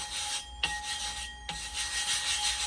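Wet abrasive grit being spread across a clipper-blade sharpening wheel gives a steady close rubbing, rasping scrape, briefly broken by two short pauses.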